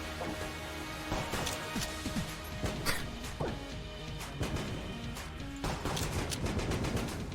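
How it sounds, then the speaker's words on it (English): Repeated sharp blasts and crashes go off in quick succession over a dense rumbling background, a busy stretch of combat in the video game Enter the Gungeon. "It's a lot of explosions."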